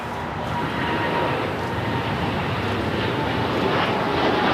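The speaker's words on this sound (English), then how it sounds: "This is United Airlines 801 taking off to Hong Kong" A United Airlines 787-9 Dreamliner roars steadily on its takeoff roll at LAX, a broad, continuous engine rumble heard from a distance with no voices.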